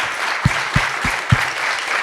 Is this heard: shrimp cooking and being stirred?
no